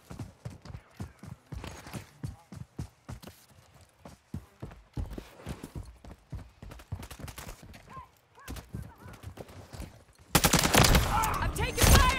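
Rapid bursts of video game gunfire, many sharp close shots in irregular volleys, building into a loud, sustained barrage near the end.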